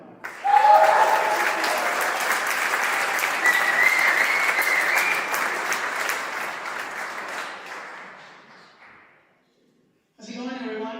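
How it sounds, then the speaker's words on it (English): Loud audience applause at the Michigan Ice Fest ice climbing festival, sustained clapping for about eight seconds before fading out, followed by a person starting to talk. "So what about a big round of applause, sponsored by the North Face"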